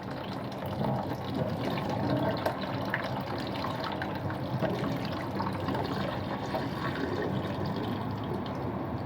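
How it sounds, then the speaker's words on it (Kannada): Cold water pours over a pan in a steady, moderately quiet stream that runs unbroken throughout. "ಇವಾಗ ಇದನ್ನು ತಣ್ಣೀರಲ್ಲಿ ಹಾಕೋಣ ಬನ್ನಿ"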